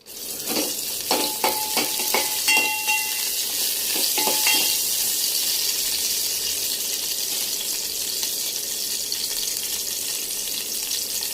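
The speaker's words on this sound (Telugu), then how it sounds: "ఆయిల్ వేద్దాం. వేసేసి 4 పచ్చిమిర్చి వేద్దాం." Four green chillies are dropped into a little hot oil for a Telangana-style tamarind rasam, giving a few sharp crackles and pops at first and then a steady, moderately loud sizzle.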